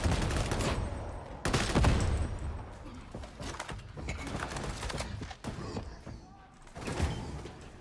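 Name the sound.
shotgun firing in the video game Darktide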